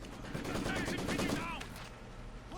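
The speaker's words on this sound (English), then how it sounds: "They've just been using their submachine guns and using their mobility to capture the map." Bursts of rapid submachine gun fire crackle through a competitive esports real-time strategy match, dense and continuous over a steady game soundscape, with a faint voice mixed in.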